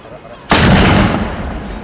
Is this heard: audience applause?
no